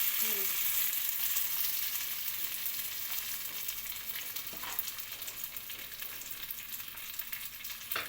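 Food frying in a hot pan, a steady bright sizzle that runs close and fairly loud throughout, with small crackles and a brief stirring scrape midway.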